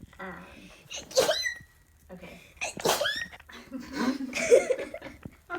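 Two sharp sneezes a couple of seconds apart, close and loud, then a brief spoken word.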